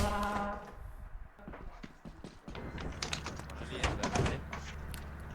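In the video game Lethal Company, a heavy door slides and thuds shut among clattering mechanical bangs, with players laughing and chatting over it throughout.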